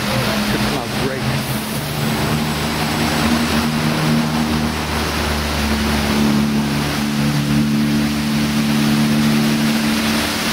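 The Mirage hotel's outdoor waterfall on the Las Vegas Strip gives a steady, broad rushing roar of falling water, layered over a low, constant hum like nearby traffic, unbroken for about ten seconds.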